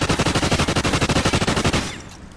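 Continuous automatic gunfire from a Call of Duty Ghosts weapon hammers out as one steady rapid string of evenly spaced, loud shots for almost two seconds, then stops and leaves a short fading tail.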